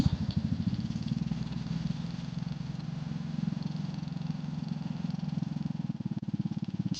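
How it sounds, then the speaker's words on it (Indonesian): An old motorcycle ridden along a road, its engine a steady close low rumble with a fast pulsing beat that holds throughout, with no talk over it. "Kita jalan-jalan naik motor tua ini, Put."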